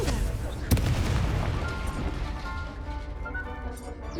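A Confringo fire-blast spell from Hogwarts Legacy: one sharp explosive crack early on, then a loud sustained rumble of combat effects under game music.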